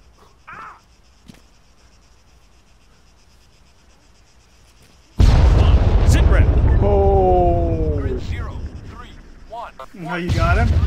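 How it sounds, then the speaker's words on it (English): Missiles explode in a team-kill mode video game: after a near-silent stretch a sudden loud, sustained blast roars in and rumbles on for several seconds while a voice talks over it. "I gotta get you with one of these missiles."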